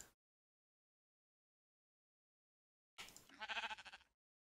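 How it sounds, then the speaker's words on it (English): A Minecraft sheep lets out a single wavering bleat after a stretch of silence, clear and isolated in the game audio. "Seems like that sheep is being obnoxious just there as well"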